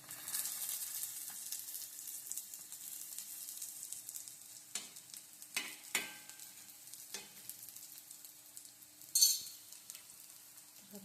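Slices of banana frying in a pan, a steady soft sizzle with occasional stirring scrapes and a brief sharper clatter near the end, no talking.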